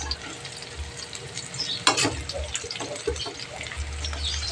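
Boiled jackfruit dropped into a sautéed mixture in a pan, giving faint wet sizzling and stirring scrapes with a brief splashy clatter as it lands.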